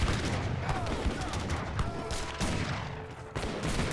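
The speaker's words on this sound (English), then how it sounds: "Got some sharpshooters in the background firing away." Sharpshooters fire musket volleys in an Age of Empires 3 battle. Dense crackling gunfire repeats steadily throughout, layered over continuous loud battle noise.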